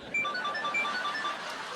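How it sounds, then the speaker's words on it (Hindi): A phone rings in a domestic comedy scene, its repeating electronic ringtone of short bright chirping tones sounding steadily and moderately loud throughout. "ये लो, शैतान का फोन आ गया"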